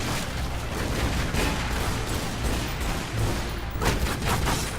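Sustained gunfire in the Tomb Raider: Underworld video game, a continuous dense barrage of shots and impacts, steady and moderately loud throughout with a few sharper bursts.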